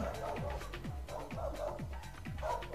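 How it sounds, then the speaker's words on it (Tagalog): Dogs at a house, a run of repeated barks in quick succession, fairly close, over a steady background murmur with some indistinct voices. "Ang ganda ng mga aso."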